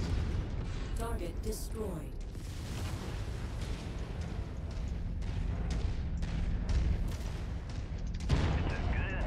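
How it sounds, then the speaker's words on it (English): Rapid gunfire and explosions from MechWarrior 5 mech combat, with repeated bursts and booms filling the clip and a heavy impact near the end, as voiced radio callouts from game characters sound over the battle. "Hit me with auto cannons."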